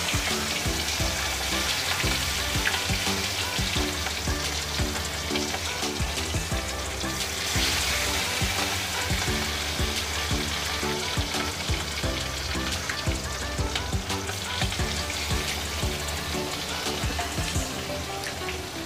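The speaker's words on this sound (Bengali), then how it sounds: "তেলটা তেতে উঠলে আমি মাছগুলো একে একে ছেড়ে ভেজে নেব" Katla fish pieces fry in hot oil for a Bengali fish curry, giving a loud, steady, dense sizzle with crackling spatter that runs without a break from start to end, and no voices over it.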